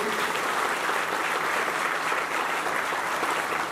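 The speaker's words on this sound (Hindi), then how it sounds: "तो ऐसे महापुरुषों के लिए एक बार जोरदार तालियां बजाकर का अभिनंदन करेंगे" Loud, dense applause from an audience at a Baba Ramdev temple gathering, steady sustained clapping filling the space with no pause.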